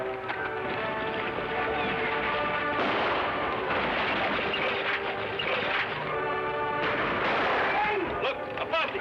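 Shotgun blasts ring out in an old Western radio drama about the Lone Ranger, sharp bursts scattered over galloping hoofbeats and a busy action soundscape with voices.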